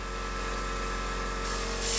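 Steady airbrush spray hissing continuously from a trigger-type Procon Boy WA airbrush with a 0.3 mm nozzle, wide open, close and even, growing slightly louder and brighter near the end.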